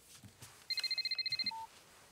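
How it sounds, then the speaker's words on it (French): A father's mobile phone rings at home in a children's cartoon, giving a rapid electronic trill of about a dozen short pulses, then a brief single tone, fairly clear and close. "Nous sommes tous en train de goûter quand le téléphone du papa de Tony sonne"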